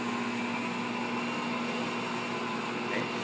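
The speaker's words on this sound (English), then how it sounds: "I'm going to turn the speed of the mixer up a little bit now." An Assistent Original stand mixer kneading dough at a higher speed gives a continuous, even motor whir with a steady hum, holding at a constant level close by throughout.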